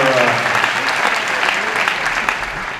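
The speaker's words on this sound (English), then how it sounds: "don't mean to cut off the applause" Audience applause at a Facebook town hall with President Obama, a steady, full clapping wash from a crowd that carries on throughout.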